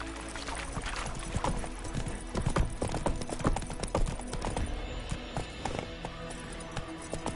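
Roach the horse gallops in The Witcher 3, a steady clip-clop of hooves running under continuous game ambience and music, fairly close and moderately loud.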